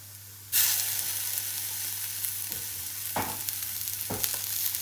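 Tomato pieces going into a pan of well-browned onion and oil set off a steady bright sizzle, with a few sharper bursts and scraping stirs in the later seconds, close and without voices.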